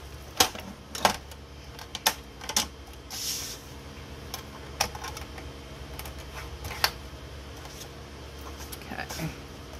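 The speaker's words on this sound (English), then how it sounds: "Now I'm gonna score my paper for my pocket with my scoreboard." A scoring board scores a sheet of paper with a series of sharp clicks and taps at uneven intervals, fairly close and distinct over a low, steady background hum.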